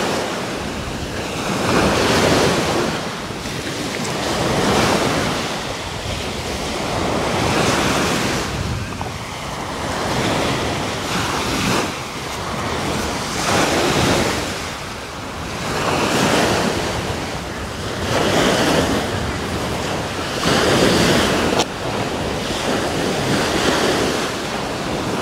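Ocean surf rolls onto a sandy beach at Hopkins in steady, loud, overlapping waves with strong wind buffeting the microphone, the swells rising and falling every few seconds with no talk.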